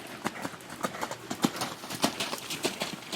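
A horse walks on a farm during a riding clinic, its hooves clip-clopping in a steady, fairly close rhythm of distinct thuds with no voices over them.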